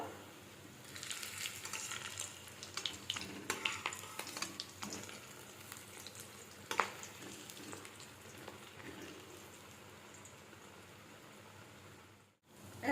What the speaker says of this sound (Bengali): বাকি ডিমের বড়াগুলো ভেজে নেব